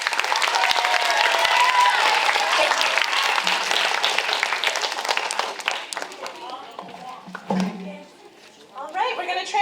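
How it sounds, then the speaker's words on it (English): Audience applause at a young playwrights' festival cold reading, a loud, sustained round of clapping that gradually thins and fades, with talk and a few scattered claps and crowd noise at the close. "Let's give Hannah a round of applause"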